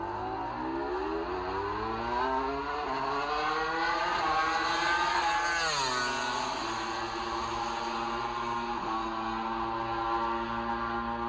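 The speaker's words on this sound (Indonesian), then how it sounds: "Ini suara V4 yang kita duga demikian." A high-revving Yamaha V4 MotoGP racing motorcycle engine screams continuously, pitch climbing and dropping through gear changes, loud and close with no voices.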